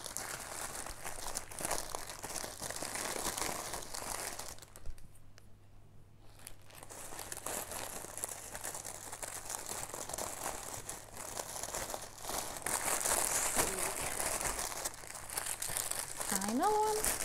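Silk canvas diamond painting kit packaging crinkled and torn during unboxing, a dense close plastic rustle that runs almost nonstop with a brief lull midway, while a person talks quietly over it.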